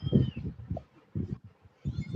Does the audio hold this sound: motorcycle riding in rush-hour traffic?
no